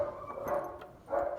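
Dogs at a dog breeder's home bark in a couple of short bursts, somewhat distant and muffled, with a whiny, yipping edge and no talking over them.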